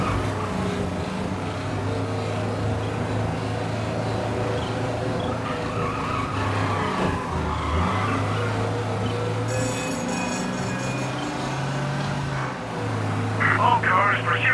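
A car races flat out through a police chase in Mafia, running an ultra-realistic graphics mod: a loud, steady engine roar with tires skidding and squealing, and voices talking throughout.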